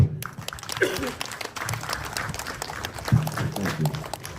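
Crowd applause and cheering follow a political speech at a coalition outreach gathering in Parishara Village, South Rupununi, with clapping and voices mixed together steadily throughout.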